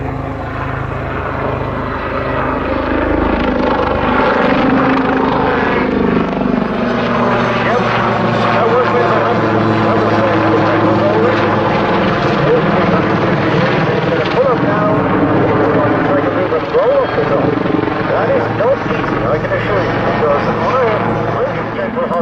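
An Army Air Corps Lynx helicopter thunders nearby in a flying display, with a throbbing rotor chop and a rising, falling engine whine as it manoeuvres, with speech faintly underneath.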